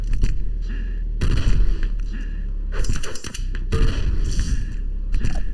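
Railgun shots and other weapon fire in an Open Arena competitive duel, heard as several sharp synthetic blasts over a constant low game hum, with bursts of loud gunfire clustered through the middle and end.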